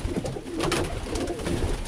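Birmingham Roller pigeons cooing close by, soft throaty coos repeating over a low continuous background.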